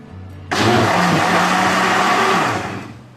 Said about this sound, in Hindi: ये देखिए कितना अच्छा सा ब्लेंड हो गया